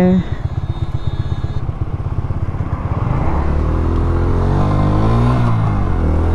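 A motorcycle's exhaust note throbs in a rapid, pulsing beat, then swells into a loud, rising rev as the bike accelerates, close and dominant throughout.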